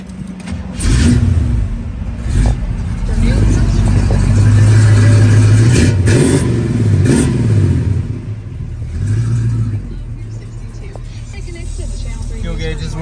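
A 1967 Chevrolet Camaro engine runs up close, idling with a low growl and rising into several loud revs before settling back, its rumble continuous throughout.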